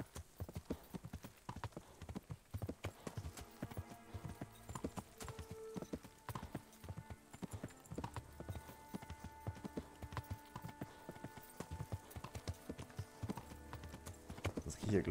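Horse hooves clip-clop in a hardcore survival game, a busy run of sharp, close hoof strikes in uneven rhythm, with occasional whinnies and someone talking over them.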